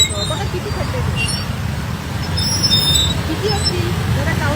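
Road traffic rumbles steadily across a pothole-ridden bridge, a low continuous roadway drone with passing cars and buses, while a person talks over it at close range.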